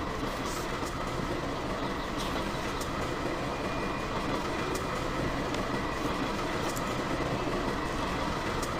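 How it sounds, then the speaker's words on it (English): A train runs along a rail line at high speed, a steady, continuous rumble of wheels and cars rolling past with no talk, constant in loudness throughout. "Zigzag train going to H junction."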